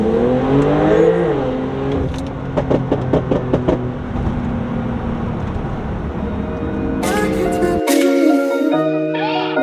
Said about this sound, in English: When these cars launch, it gets very aggressive.